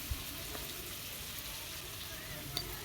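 Ground cumin and ginger pastes hit hot oil in a frying pan, giving a soft, even sizzle with faint clinks, at low volume and with no talking.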